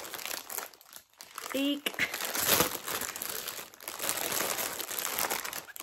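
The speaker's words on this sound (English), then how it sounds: "sorry about the crinkles" Plastic packaging from a Temu purchase crinkles loudly and continuously at close range, with a brief voiced exclamation partway through.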